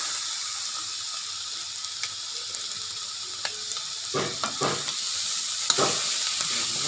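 Stir-frying field rat with a mix of holy basil and cumin leaves, a steady bright sizzle running throughout, with clattering scrapes of a utensil against the pan picking up in the last few seconds.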